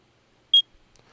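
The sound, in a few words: enemy proximity warning beep, video game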